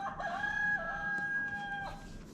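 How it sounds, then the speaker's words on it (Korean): A rooster crows once in a long, tinny cock-a-doodle-doo from a children's animal farm sound book, sounding like a small speaker playback against a quiet background. "닭이 우네. 이건 닭이야."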